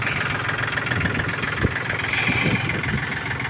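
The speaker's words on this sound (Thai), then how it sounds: "ก็เลยเอารถไถมาดึงนะครับ" A Yanmar 39 tractor engine runs steadily at a low, even idle, hauling a combine harvester trailer, with a constant mid-low drone and one brief knock partway through; no one speaks.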